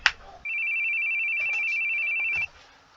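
A cell phone in a video game rings with one steady, shrill electronic tone lasting about two seconds, clear and fairly loud after a brief click, then cutting off abruptly.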